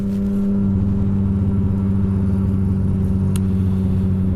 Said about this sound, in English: what the M4 exhaust is going to sound like on the bike